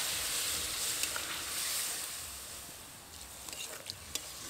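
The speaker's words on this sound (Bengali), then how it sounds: "ডুমুর এবং আলু আবারও মশলার সাথে ভালো করে কষিয়ে নেব।" Figs and potatoes frying with spices in a pan give a steady soft sizzle and hiss, with a few light scrapes of stirring near the end.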